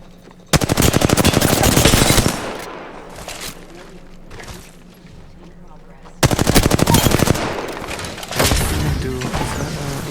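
Rapid automatic gunfire in the shooter video game Apex Legends comes in two long, loud bursts of tightly spaced shots. Shorter sporadic shots and a low background hum fill the quieter stretches between them.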